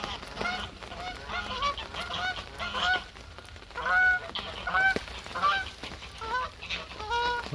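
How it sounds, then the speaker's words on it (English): Waterbirds on a lake honk and call repeatedly in bursts, geese-like and fairly close, with a busy flock chattering behind them. "there's a lot more bird life in this part of the lake this morning"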